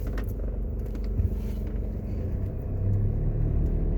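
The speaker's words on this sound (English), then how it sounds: "We're going to drive out to the plaza now." A car drives out of a shopping plaza near the cruise ship pier in Falmouth, Jamaica. A steady low engine rumble is heard from close by, swelling a little toward the end, with no talk.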